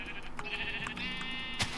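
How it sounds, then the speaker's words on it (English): Sheep bleating in the Minecraft modpack FTB Infinity Evolved, a run of close, wavering game bleats layered over one another for under two seconds, with no talk. "let's go find some sheep real quick."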